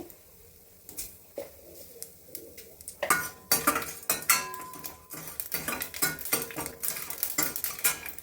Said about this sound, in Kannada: ಒಗ್ಗರಣೆ ಕೆಂಪಾಗಿ ಸಾಸಿವೆ ಚಟಪಟ ಅಂದ ತಕ್ಷಣ